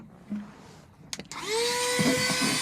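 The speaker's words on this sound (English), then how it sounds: "this is a middle aisle Hoover, and it works quite well" A budget discount-store Hoover vacuum cleaner is used to clean a van: a few soft clicks and bumps, then the motor spins up to a loud, steady whine that carries on with a rising pitch.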